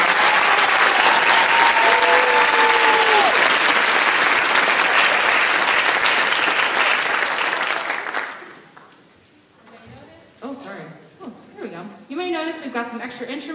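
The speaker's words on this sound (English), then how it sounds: "So give a round of applause to these students." An audience at a high school winter orchestra concert applauds the student musicians, loud and sustained for about eight seconds before fading, then someone speaks.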